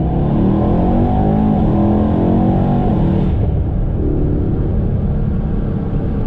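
A Mercedes E63 with the M177 engine fitted with CTS turbo intakes accelerates hard, its loud, close engine roar climbing steadily in pitch for about three seconds before settling into a sustained lower drone.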